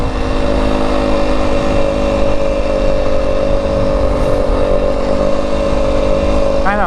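A 2025 Yamaha WR250F dirt bike ploughs through soft desert sand in Arizona, its engine droning loud and steady with held revs throughout, a continuous close-up motor tone with no pauses.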